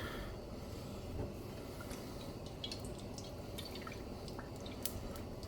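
Water bubbling heavily in a pot on a stovetop, nearly at a rolling boil, with steady low rumbling and scattered small pops and drips throughout, moderately loud and with no talking.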